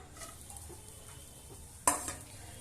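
Grated coconut dry-fries in a pan with fried fish for a fish curry, giving a faint, low sizzle, then a sharp clatter of a spoon against the pan near the end.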